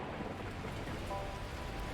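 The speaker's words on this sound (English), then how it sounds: "the heavens opened up, unleashing torrential rain" Torrential rain pours down in the video game Beacon Pines, a steady, dense hiss of downpour that stays faint and unbroken throughout, with no voices.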